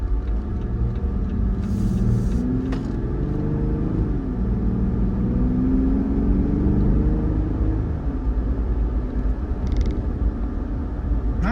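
Jeep Wrangler with a newly installed intake pulling away from a takeoff, a steady low engine rumble with rising tones as it accelerates, road noise throughout and no talking.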